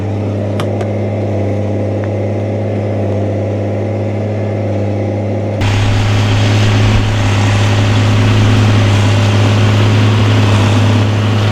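JCB Fastrac 3185 tractor with a Cummins engine and loud exhaust pipe running steadily during baling, a constant droning hum that steps up louder and rougher partway through as the engine works harder.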